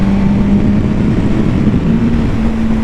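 A motorcycle engine drones steadily while riding, with a continuous low hum that shifts slightly in pitch as the revs change, mixed with rushing wind noise throughout and no speech.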